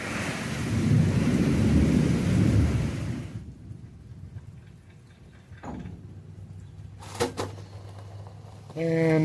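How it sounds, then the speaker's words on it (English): A thunderstorm brings a long, loud rumble of thunder with rain over a garage driveway where a 2002 GMC Sierra is being worked on. The rumble fades into quieter clanks and clicks from the work nearby. "thunderstorm and it's going to rain cats and dogs"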